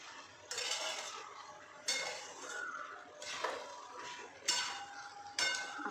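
Pumpkin sabzi (kaddu) stirred in a cooking pot, with a series of close, scraping, clattering strokes in uneven bursts and no voices.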